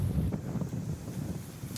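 Wind of 15 to 20 knots buffets a sailboat at sea, making a steady, dense roar with low rumbling gusts throughout.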